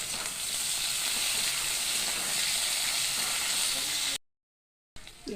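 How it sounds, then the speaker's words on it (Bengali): Onion and small potatoes frying in a pan for a fish curry, giving a steady, dense sizzle that runs unbroken for about four seconds before a brief cut and a short return. "আলুর সঙ্গে পেঁয়াজটাও ভাজা হয়ে দিব"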